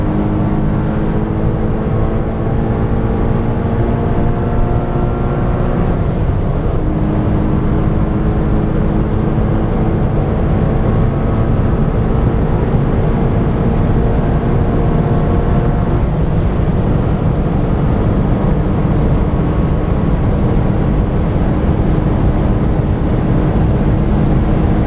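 A Porsche Cayman 987.1 cruising on a test drive, loud steady engine drone with harmonic whine rising and dipping as gears change, plus constant road and wind rumble, no talk.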